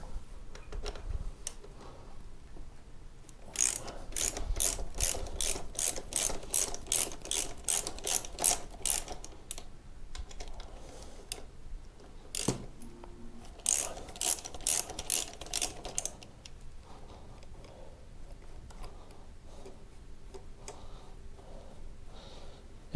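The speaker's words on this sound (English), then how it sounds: "We'll take the 2 bolts out just to prove" A ratchet wrench clicks rapidly and crisply in repeated bursts as two bolts are backed out of a Roadlok motorcycle disc lock, with short pauses between runs.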